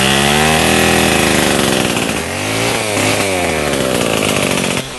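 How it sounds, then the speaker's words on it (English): A chainsaw cuts branches from an unproductive cashew tree on a farm, its engine loud and close, holding a steady high drone that dips and rises under load before easing off at the end. "on va couper l'arbre, on va couper les branches"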